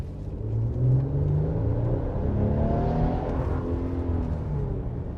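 A Nissan Armada Nismo SUV with a 460-horsepower engine accelerating hard from a green light, its deep engine rumble rising steadily in pitch through the gears, loud and close from inside the cabin, with no speech.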